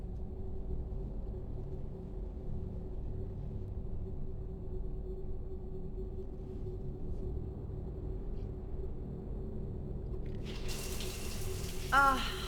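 Shower water runs steadily in Mass Effect 3, a low, even rush under a faint hum that continues throughout, with a brighter splash near the end and no voices.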